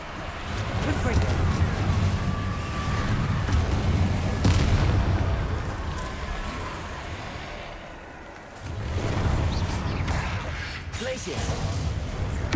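Fiery Confringo spell blasts from the Hogwarts Legacy video game boom and rumble continuously, with a brief lull before the explosions resume at loud, close range.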